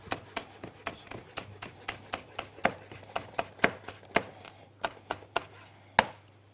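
A knife finely chops vegetables for shrimp pizza on a board in steady, close, crisp strikes, about a dozen evenly paced chops ending in a sharper final hit, with no talk over them.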